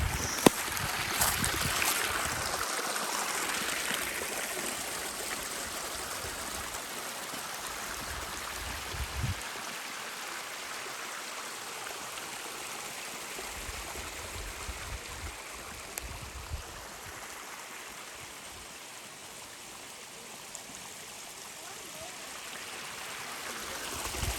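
Creek water flows steadily near a spring, a continuous broad rushing wash heard close and even throughout, with occasional faint bumps and low wind rumbles beneath.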